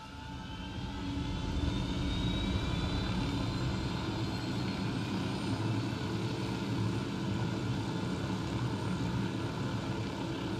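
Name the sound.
helicopter flying in the video game Wild Lands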